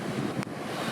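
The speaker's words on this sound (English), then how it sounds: "That wave just spit." An ocean wave breaking on a fall surf day, heard as a brief roaring wash of surf over steady wind noise, with one sharp spray-like burst in the middle.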